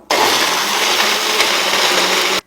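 A kitchen mixer grinder whirs loud and steady as it blends peanut chutney with a little water in the jar. One unbroken, harsh grinding roar runs for a couple of seconds, then cuts off abruptly.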